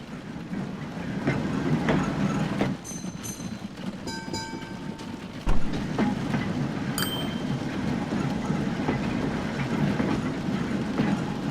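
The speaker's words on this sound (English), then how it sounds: "So there's our steam tram there, already moving people." Steam tram running through a town in the transport game Train Fever, a steady rolling rumble of wheels on rails with brief whistle-like tones and a thump partway through, heard at moderate level without talk.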